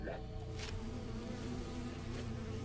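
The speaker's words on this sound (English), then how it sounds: "one of the bees flew over me." A bee flies past in the video game The Hundred Line, a close, continuous buzzing drone that stays loud and steady throughout with no talking.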